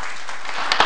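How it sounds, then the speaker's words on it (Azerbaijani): A studio audience at a TV quiz show claps in a brief burst of applause that builds slightly toward the end, with no one talking over it. "alqışlar, alqışlar onlara"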